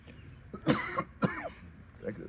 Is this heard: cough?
yes